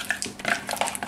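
A spoon clinks and scrapes in a bowl, mixing butter into cinnamon roll filling: a quick series of light taps over about a second, close and without talk.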